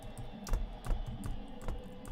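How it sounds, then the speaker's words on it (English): Keys clack on a computer keyboard in a steady, slow rhythm of distinct taps during a live football watchalong, close and fairly quiet, with no talking. "when I was typing, I didn't press anything and it automatically stopped me typing"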